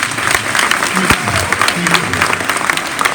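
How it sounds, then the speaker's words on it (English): An audience at a guest speaker's school event bursts into steady, moderately loud applause. Many hands clap densely for a few seconds, with faint crowd murmur underneath. "Clap your hands if you hate parents."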